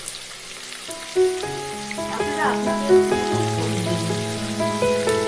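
Ingredients for vegetarian ghugni fry in a pan, a steady, rain-like sizzle running continuously at moderate loudness beneath someone speaking and soft tonal background sounds.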